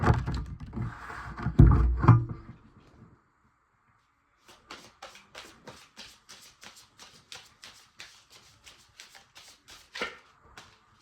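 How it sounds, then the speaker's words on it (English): Thoth Tarot cards shuffled by hand: a dense burst of rustling and riffling at first, a short pause, then a steady run of quick crisp card flicks, each one close and clear. "So now I'm gonna pull an advice card from the Thoth Tarot."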